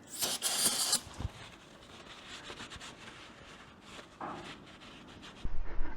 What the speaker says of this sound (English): There we go. Some brake cleaner.